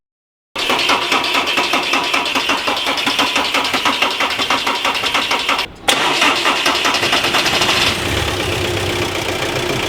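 An Audi A4 TDI diesel engine with a blocked DPF cranks and catches, then settles into a loud, steady idle with a regular knocking rhythm, a brief dropout midway.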